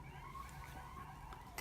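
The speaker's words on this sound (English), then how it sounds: "Sorry about the sirens out there. It's a busy night in New York." An emergency siren wails faintly from a busy New York city street outside, a distant wavering tone under quiet room noise.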